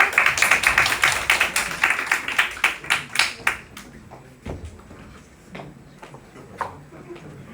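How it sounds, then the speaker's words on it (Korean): A small audience at a Latin dance lecture claps in quick, close, rhythmic bursts for a demonstrator, loud at first and then thinning out into scattered claps. "박수!"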